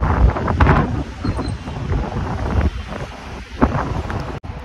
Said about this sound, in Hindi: मौसम आप देखिए इतनी तेज जो है यहाँ पे ठंडी ठंडी जो है हवा चली हुई है।